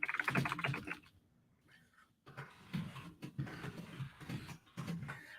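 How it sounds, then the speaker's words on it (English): Computer keyboard typing in a room, a rapid run of clicky keystrokes at the start, then scattered bursts of key taps mixed with soft handling sounds, fairly close and moderately loud with no talking. "All right, so I'm just typing that in."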